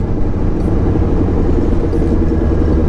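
A Honda CBR650R motorcycle engine idles close by, a low continuous rumble that holds constant throughout with no voices.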